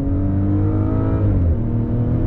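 A 2022 Maserati Ghibli Modena sport sedan with an 8-speed automatic accelerates under throttle, its engine a loud, steady, rising growl heard from inside the cabin, pitch climbing and then dipping briefly as a gear shifts.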